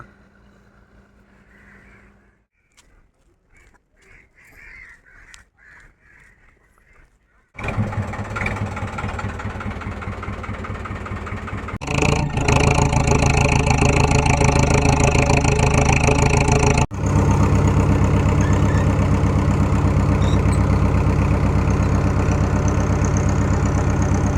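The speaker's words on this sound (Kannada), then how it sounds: "ಸುಮಾರೊಂದು ಮೂರು ನಾಲ್ಕು ಬೋಟ್ ಹೋಯ್ತು ಇವಾಗ" Fishing trawler engines at a harbour as several boats head out: near silence at first, then a deep diesel rumble kicks in and grows louder, settling into a steady, close, continuous drone.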